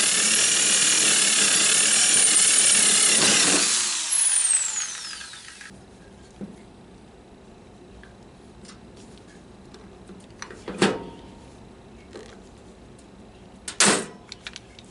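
Pop riveting a flange to a panel while building a bent-wing vertical-axis wind turbine: a long loud broadband burst of riveter noise at the start, then quieter ticking with two sharp clicking snaps near the end.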